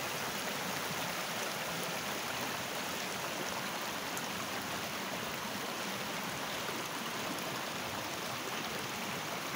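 Water stream running down from a hillside in rural Hidalgo, Mexico: a steady, close, broadband rush of flowing water that continues without pause, with no voices over it.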